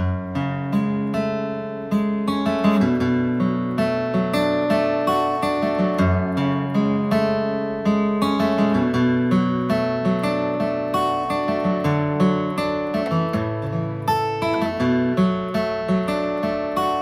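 Guitar plays a steady picked riff from the verse of a song, clear and close, with repeating rhythmic phrases and no voices.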